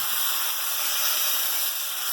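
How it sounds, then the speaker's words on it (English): Onion frying in a pan for meatball soup, a steady bright sizzling hiss held close and even with no talking. "In here, fry the onion,"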